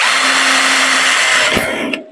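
A handheld power drill set to second gear for high speed, running steadily at a loud, high-pitched whine while drilling aluminium for an aluminium door installation, then spinning down at the end.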